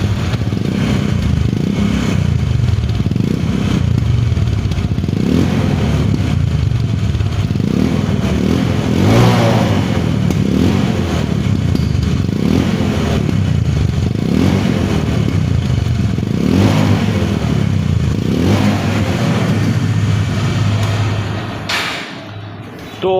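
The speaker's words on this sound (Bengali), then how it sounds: "এখন আসবো বাইকটার সাউন্ড। বাইকটা কিন্তু স্টার্ট অবস্থায় আছে।" A 135cc motorcycle runs nearby, idling with a throbbing beat and rising into several revs before it cuts off near the end.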